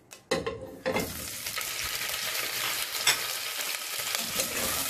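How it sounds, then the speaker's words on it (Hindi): Chicken pieces frying in three tablespoons of hot oil over a slow flame for spicy chicken nihari, starting with sharp bursts as the meat drops in, then a steady, close, full sizzle that holds throughout with no talking. "चिकन को 10 सेकंड के लिए फ्राई करेंगे।"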